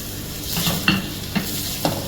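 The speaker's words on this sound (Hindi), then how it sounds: "दोनों को हम जस्ट थोड़ा सा सॉटे करेंगे।" Ginger and cumin sauté in a pan, with a steady sizzle of frying and a few light clinks as a utensil stirs against the pan.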